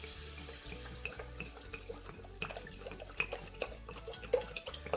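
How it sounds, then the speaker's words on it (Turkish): Cold water pours into a pot over spices including ginger and cloves for a winter tea, a soft, steady splashing stream close by with small drips and clinks. "Üzerine soğuk su döküyorum."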